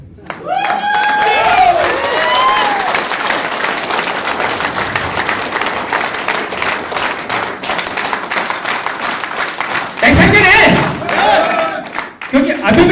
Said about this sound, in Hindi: तालियां तो बजाओ मत, और बजाओ तो मर्दों वाली बजाओ दोस्त